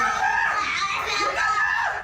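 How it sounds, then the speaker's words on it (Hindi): A girl screams in distress during a rough faith-healing ordeal, a loud, strained, wavering cry that holds for about two seconds with other voices mixed in. "उस लड़की की चीखें निकल गई"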